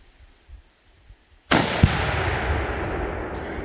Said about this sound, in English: we're gonna be using that today to detonate the tannerite